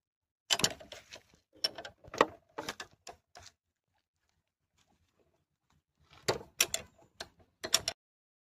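A wrench removes a handlebar bolt on a Splendor Plus motorcycle, making bursts of sharp metallic clicking and ratcheting close by, separated by a few seconds of near silence.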